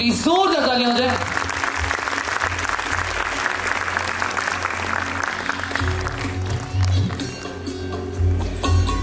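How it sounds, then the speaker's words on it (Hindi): Loud, dense applause fills a ceremony hall for Hetal ji at the opening of the show Thirkan-2, with voices heard under the clapping and low thumps near the end. "हम चाहेंगे हेतल जी के लिए प्लीज जोरदार तालियां हो जाए"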